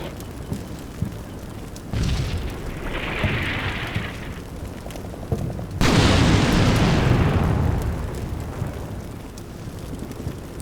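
Artillery air-burst explosions going off near a tank in the video game Combat Mission Black Sea, heard as two heavy booms with rumbling, crackling decay, the second louder and longer.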